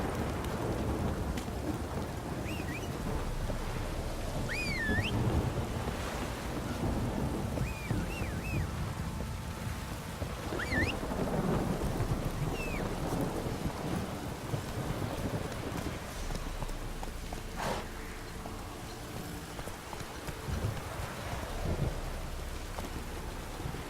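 Steady rain and rolling thunder in The Witcher 3, with hoofbeats of a horse clip-clopping underneath and a few distant bird-like chirps through the continuous downpour.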